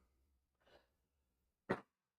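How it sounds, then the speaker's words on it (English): A single sharp cough, close and fairly loud, preceded by a softer breathy exhale in an otherwise quiet setting. "sorry for the cough."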